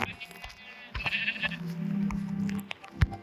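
Sheep in the survival game Minecraft bleat a couple of times, a short nasal bleat followed by a longer wavering one, fairly close and clear over quiet game ambience with small clicks.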